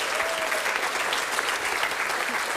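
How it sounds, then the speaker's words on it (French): An audience applauds volunteers at a French talent show: dense, even clapping from a crowd, steady and fairly close throughout the short burst. "on peut applaudir très fort nos volontaires"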